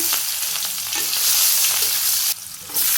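Cumin and onion frying in oil in a village kitchen, a dense steady crackling sizzle close by, with a few soft stirring touches and a brief dip midway.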